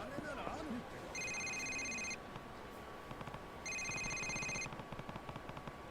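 Electronic ringtone of a cheap 2005-era Samsung flip phone in the game Yakuza Kiwami, two bursts of bright repeated tones about a second long each, over low game ambience with a voice talking at the start.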